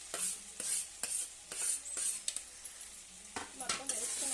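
Potatoes are being stirred into an aloo tomato curry in a pan, with repeated scraping and clinking strokes of a spoon against metal over a soft sizzle, close and moderately quiet.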